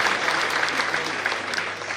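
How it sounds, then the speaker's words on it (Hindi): A crowd claps loudly for a revered Swami Maharaj at a Hindu religious gathering, brisk dense applause filling the hall for two seconds, tapering slightly at the end. "जोरदार तालियों से पूज्य स्वामी महाराज को हम निवेदन करें।"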